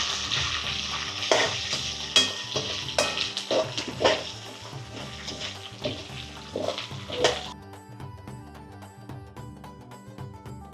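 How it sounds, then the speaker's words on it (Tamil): Leaves sizzle and crackle as they fry until golden in a hot pan for coconut rice, while a utensil scrapes and stirs in irregular strokes, then the sizzle settles into a steady hiss. "இது நல்லா பொன்னிறமாக வர்ற வரைக்கும் இலைச்ச வதக்கோணும்"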